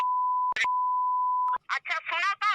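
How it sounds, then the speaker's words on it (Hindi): Two sustained censor beeps, a steady pure tone at constant pitch, bleep out abusive words in a Hindi news segment, each cut off by brief bursts of speech, with someone talking after the second beep. "गंदी गालियों को के जो अंश हैं उनको हमने बीप किया है।"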